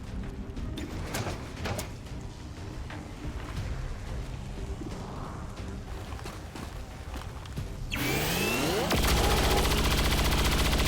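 Rapid bursts of gunfire from a new weapon in the video game XCOM 2: War of the Chosen, repeated sharp shots over a busy game soundscape, ending in a louder sustained burst.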